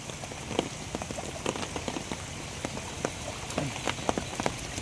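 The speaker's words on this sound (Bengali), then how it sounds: "বৃষ্টিটা একটু কমছে" Heavy rain falls during a flood in an even, hissing patter with scattered louder drop impacts close by, and nobody talks.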